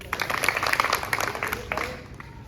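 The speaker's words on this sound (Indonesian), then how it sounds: "Tepuk tangan dulu." Children clap their hands in a classroom, a burst of light, uneven claps lasting a couple of seconds and tapering off, with some chatter mixed in.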